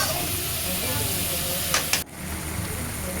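Squid masala simmering in a pan gives a steady hiss and sizzle, with a couple of brief clatters before the sound drops away abruptly; a voice speaks over it.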